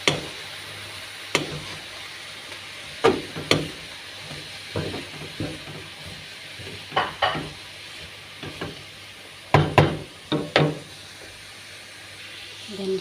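Spring roll filling being stirred in a bowl, with a series of scattered scraping and clacking strokes, some in quick clusters, over a faint steady hiss.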